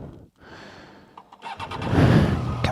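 A Triumph Tiger Sport 800 motorcycle engine pulling away for a ride, starting quiet and rising into a louder, building engine note over the last second or so.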